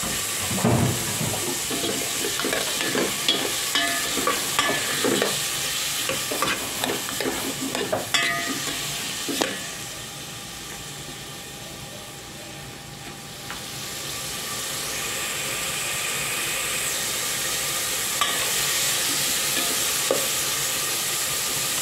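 Tomatoes fry with onions in a pan, a continuous close sizzle at first punctuated by frequent stirring clatters, then settling into a smoother, softer hiss.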